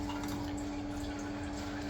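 Water runs steadily from a sensor tap during an install test, a continuous close hiss and splash with a faint underlying hum.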